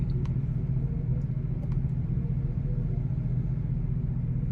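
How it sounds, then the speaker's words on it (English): Heavy road traffic rolls past as a continuous low rumble of car engines and tyres, steady and moderately close, with a couple of faint clicks and no voices. "Lots of traffic."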